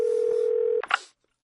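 A steady telephone tone hums for under a second, then breaks off into a couple of short clicks and beeps before falling silent.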